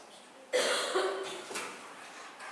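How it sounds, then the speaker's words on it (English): A sudden harsh cough bursts out, followed about a second later by a second, shorter cough, close and fairly loud, with a faint room hum between. "the cough is coming out"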